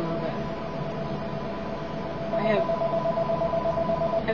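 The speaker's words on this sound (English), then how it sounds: "Turn the ringer down a little." A telephone ringer, turned down low, gives a brief electronic ring partway through amid steady room noise, with a voice speaking nearby.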